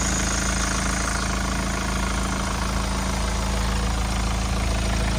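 A 2019 Hyundai Palisade idles in a constant, even drone, loud and near, with a faint vibrating texture and no other sounds.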